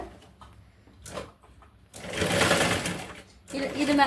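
A sewing machine stitches waste cloth for a tote bag, whirring in two strong runs after short bursts and pauses, with a voice talking beneath.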